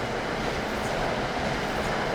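American push-pull passenger train running in the Train Sim World 5 game, a steady rumbling roll of wheels and engine noise, continuous and fairly loud with no talk.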